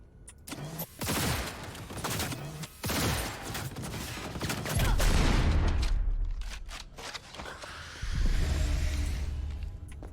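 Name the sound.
turret gunfire in the video game Cyberpunk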